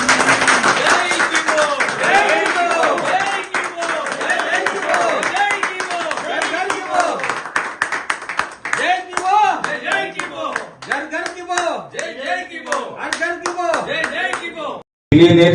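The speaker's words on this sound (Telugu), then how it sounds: "చప్పట్లు కొట్టున్నారు." Audience clapping at a dealership launch event in Hyderabad, a sustained round of applause with a voice speaking over it, ending in a short burst.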